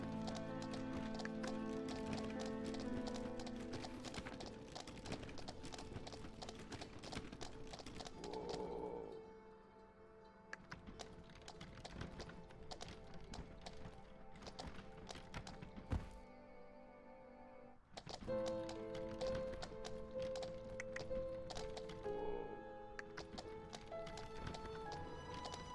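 Rhythmic horse hooves clip-clop steadily over a bed of game music in the video game Nightsoil, with a few thunks and a brief pause before the trotting resumes.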